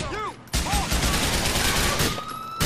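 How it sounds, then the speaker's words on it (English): Grand Theft Auto IV shootout in Alderney, a rapid, loud burst of repeated gunshots that keeps crackling without pause, with a brief siren-like wail at the start. "So now this is the shootout."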